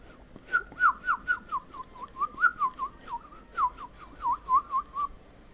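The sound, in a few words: person imitating a bird chirp by whistling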